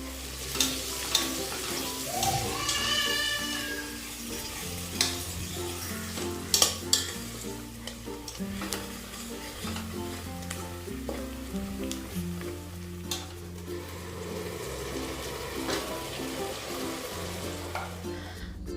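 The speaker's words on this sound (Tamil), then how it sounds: "வெங்காயத்தை சேர்த்து நல்லா கலந்து விடுங்க இது வந்து நல்லா வதங்கி வரட்டும்" Onions sauté in a pan with cardamom and cloves, giving a steady sizzle broken by repeated scraping stirs, with background music playing throughout.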